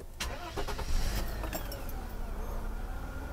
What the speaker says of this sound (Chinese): 我们热车做个发动